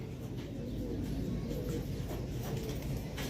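Domestic pigeons kept by a fancier coo in a steady, low murmur that fills the clip close by, with soft bird calls mixed into the continuous cooing and no talking.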